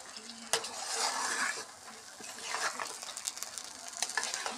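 Spoon stirring a thick cream mixture in a pot as cashews, raisins and cardamom go in, with close scraping and clinking of metal against the pan, a faint sizzle underneath, and an irregular rhythm of strokes.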